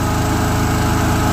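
A generator engine runs at a steady, constant drone with an even mechanical pulse, loud and close, with no change in speed across the short stretch.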